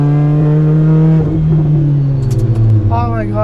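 Lotus Exige S sports car engine droning loud and steady with strong low harmonics that rise and shift in pitch as it pulls, close and continuous, with faint bits of other sound near the end.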